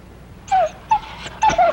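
A small dog whimpers close by, making three short, high whining yelps in quick succession.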